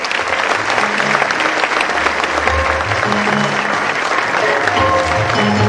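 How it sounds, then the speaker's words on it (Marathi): Students at an academy's annual prize distribution in Wai applaud loudly and continuously. Low tonal hum and faint voices sit beneath the steady dense clapping. "त्यांच्या विद्यार्थ्यांनी टाळ्या जोरात वाजवाव्यात"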